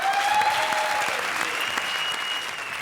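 Audience on a comedy show set bursts into continuous, even clapping at moderate volume. A faint tone also sounds under the clapping.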